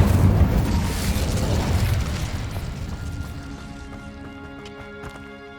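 Incendio fire spell explosion in Hogwarts Legacy, the video game: a loud, close, booming burst of fire crackles and rumbles, then slowly fades out while sustained ringing tones rise in its place.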